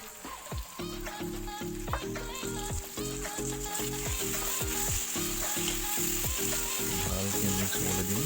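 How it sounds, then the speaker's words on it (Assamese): Chicken meat frying in a wok with local spices, a steady loud sizzle with rhythmic stirring scrapes throughout, no talking. "এতিয়া আমাৰ মাংসখিনি দি দিম ধুনীয়াকৈ কেৰাহীখনত"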